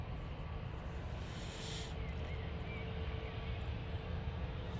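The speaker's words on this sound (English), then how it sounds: "Coming in from Paris now, we do have the EasyJet A321neo" EasyJet Airbus A321neo airliner on final approach into Manchester Airport from Paris, a steady broad engine roar holding throughout at moderate distance, with a faint whine briefly rising around the middle.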